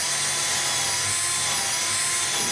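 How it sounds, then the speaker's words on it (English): A power drill whines steadily and loudly at high pitch, pre-drilling holes in a cabinet during installation, running continuously without pause and close by. "I'll pre-drill these holes. I start from the top, a little away from where the seam is, and I'll drill down."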